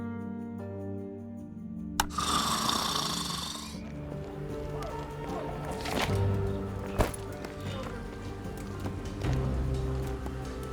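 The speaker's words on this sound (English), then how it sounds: "Snores loudly." Loud snoring from a sleeping character in the video game Drova, with long repeated rasping breaths spread through the scene over steady game background sound, plus a few sharp knocks.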